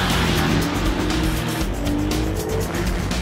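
A Porsche 911 Carrera GTS Cabriolet six-cylinder engine roars loudly and steadily at close range, a deep rumbling drone with no talking.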